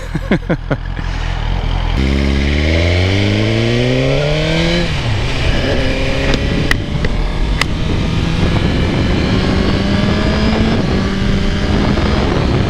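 A 2023 Suzuki GSX-R 1000 sportbike idles, then revs in rising gear-by-gear pulls as it turns around and rides off, its engine loud and close throughout with steady road noise beneath.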